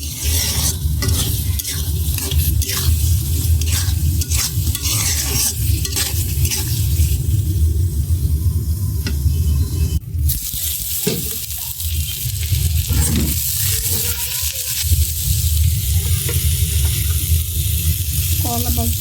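Katla fish roe sizzles steadily in hot oil while a spatula stirs and scrapes the pan, a close, continuous frying hiss with irregular stirring knocks throughout.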